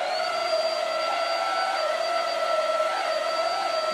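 Dibea F20 MAX cordless stick vacuum cleaner running steadily on carpet at its lowest setting, a close, constant motor whine with a high tonal hum and no talk over it.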